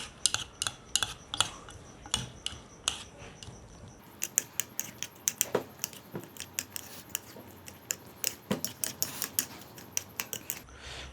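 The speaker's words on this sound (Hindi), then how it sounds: "अच्छा अभी हमने इसको ऐसे अच्छी तरह मिक्स करेंगे" Ingredients for anda tikki are mixed in a bowl with a utensil, producing a rapid, steady series of close clicking and tapping strokes throughout.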